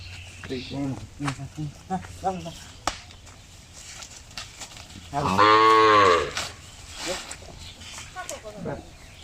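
A dairy cow in heat, about to undergo artificial insemination in a village, lets out one loud, drawn-out moo midway, with people talking nearby before and after the call.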